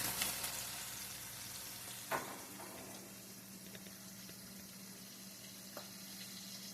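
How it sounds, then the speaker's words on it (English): Onion rings and chicken nuggets frying in a skillet of oil, a steady soft sizzle throughout with a few faint clicks and taps, fairly quiet and close, no speech. "They're frying now."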